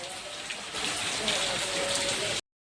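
Steady rain at night on a farm where cotton seed was just sown, a continuous broadband patter of drops on surfaces that grows louder after the first moment and holds evenly, with no voices.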